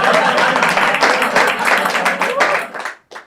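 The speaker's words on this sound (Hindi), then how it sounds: "जितनी तालियां आपने यहां बैठ के अभी मारी हैं" Audience applause and clapping at a live stand-up comedy show, a dense, loud burst of many hands that carries on steadily, then thins and cuts off near the end, with a little crowd noise mixed in.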